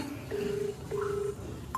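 An unanswered phone call rings out through the earpiece, two short electronic tones in a repeating pattern, fairly faint with a low background hum and no talk.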